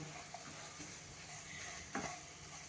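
Rice with salted onions is stirred in a hot pan, giving a steady soft sizzle with a couple of faint scraping stirs, quiet and close.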